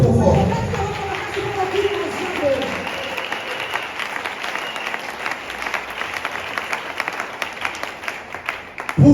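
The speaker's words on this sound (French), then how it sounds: "On acclame trop fort." Church congregation applauding at a sermon, a loud burst of clapping that gradually thins into scattered claps, with voices underneath.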